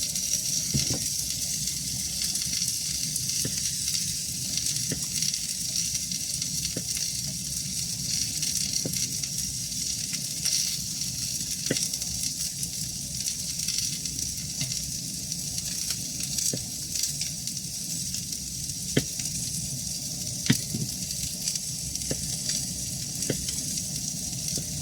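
A venison marrow bone warms in a skillet, giving a steady, close sizzle and crackle throughout with a few faint clicks and taps, no talking.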